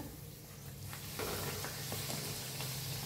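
Sweet semolina puris deep-fry in hot oil and are turned to cook both sides; a steady, close sizzle swells after the first second, with a few soft clicks and no voices.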